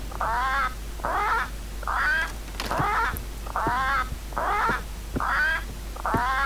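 Parrot squawks in the Return to Monkey Island video game, a run of eight harsh, rasping calls repeated at a steady rhythm, each short and loud, heard alone with no talk over them.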